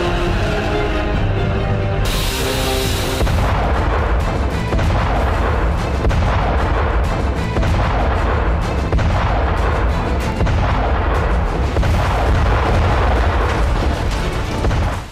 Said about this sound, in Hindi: नाम है MB-30 स्मच, जो कि एक मल्टी बैरल रॉकेट लॉन्चर।